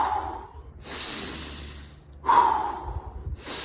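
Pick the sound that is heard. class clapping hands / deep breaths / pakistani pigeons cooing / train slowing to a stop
deep breaths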